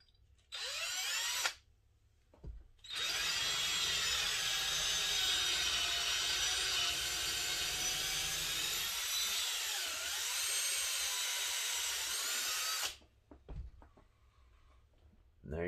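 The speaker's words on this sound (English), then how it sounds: "take your hinge pin block and drill it out with a number 20 drill bit." Power drill with a number 20 bit boring out a hinge pin block for an HB Racing D418 RC car. Two bursts of high whine: a short one at first, then a long, steady run of about ten seconds, close to the mic, with small handling noises around them.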